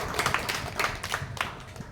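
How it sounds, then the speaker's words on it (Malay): Applause from an audience at a school opening ceremony, a dense patter of clapping hands with rhythmic bursts, moderately loud and close, lasting about two seconds. "satu tepukan untuk di anda semua"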